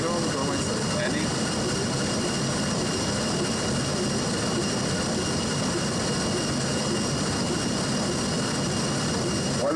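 Jet engines of an Air Canada Airbus A319 roar steadily during a bad-weather landing at St John's, a loud, broad, unbroken cabin drone with no clear voices.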